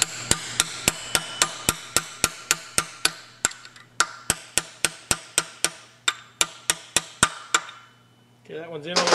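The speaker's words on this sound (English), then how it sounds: "then pound that roll pin down through there," A hammer drives a roll pin into an axle during Super Cub aircraft work: about two dozen sharp, evenly spaced metallic strikes close by, a short pause, then a voice at the end.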